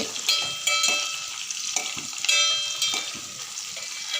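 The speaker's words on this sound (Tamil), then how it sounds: "இதெல்லாம் போட்டு நல்லா வதக்கிக்கலாம்" Chopped onion, green chilli and garlic sautéing in a pan, a bright continuous sizzle close by with repeated metallic scrapes and taps of a spatula against the pan.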